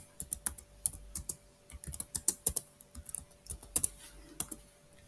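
Rapid irregular keystrokes on a computer keyboard as a command is typed into a router console during a dynamic routing lab, close and clear with no talking.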